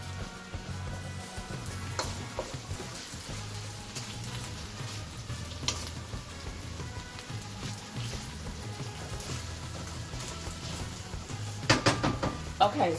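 Beef for Beijing beef sizzles in a pan with a constant crackling hiss, with a few clinks and a louder clatter of cookware near the end.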